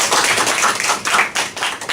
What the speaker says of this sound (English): Now give both of them a big round of applause